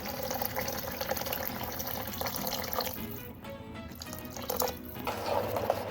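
Water pours steadily into a pan of green gram masala being cooked for a Tamil-style pachai payaru side dish, a continuous close splashing and trickling with no voices.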